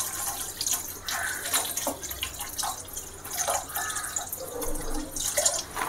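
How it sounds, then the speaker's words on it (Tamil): Water poured into a cooking pot while making apple rasam, a steady splashing and trickling stream with dripping accents that runs throughout, close and fairly loud with no talking. "இப்போ நம்ம அதில் தண்ணி ஊற்றிக்கலாம்."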